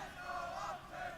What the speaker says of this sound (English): Oh, the fans are still trying, bless them. They're still trying to cheer.